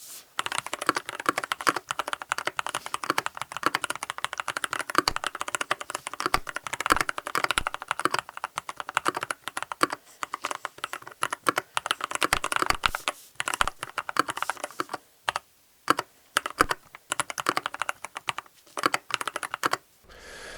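Steady, close-up clatter of typing on a Keychron K2 Pro mechanical keyboard, dense rapid keystrokes running throughout with a few brief pauses near the end; no voices.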